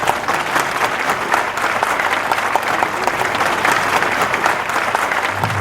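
A large crowd at a Bhojpuri stage show breaks into loud, sustained applause, a thick and steady roar of many hands clapping close by, with little change in level throughout.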